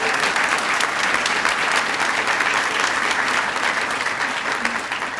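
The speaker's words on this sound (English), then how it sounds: "let's give him a round of applause." Applause at the swearing-in ceremony of a fire and EMS chief, a dense sustained crowd clapping, loud and continuous throughout with faint crowd murmur beneath.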